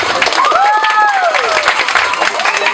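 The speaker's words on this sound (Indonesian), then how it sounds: "Sekali lagi tepuk tangan untuk pensyarah yang kedua." Crowd at a Quranic recitation competition applauds a second performer with busy clapping, a whistle and cheering, voices mixed through the din.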